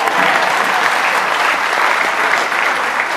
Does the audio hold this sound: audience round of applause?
yes